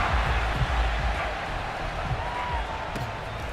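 Stadium crowd noise in Madden NFL 22 before a game against the New York Giants, a steady, dense roar of many voices with a few low thumps, loud and unbroken throughout.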